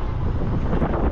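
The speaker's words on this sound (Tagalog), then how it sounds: "Lakas ng hangin, no?" Strong outdoor wind buffets the microphone in a continuous, loud, rough roar, with no voices.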